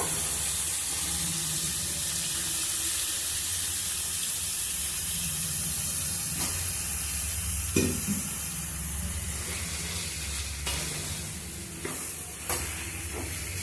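Pieces of brinjal and tomato cook in a pan for a brinjal chicken curry, giving a steady, loud sizzle throughout, with occasional spoon scrapes and knocks near the end.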